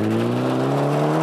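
A damaged Mitsubishi Lancer rally car on a 1999 Ulster Rally stage gives a steady, strong engine drone with a slowly climbing pitch, a short loud burst.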